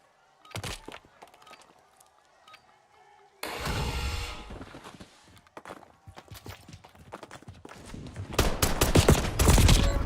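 Gunfire in a shooter video game: scattered shots early, then dense bursts of rapid fire that grow louder and heavier toward the end.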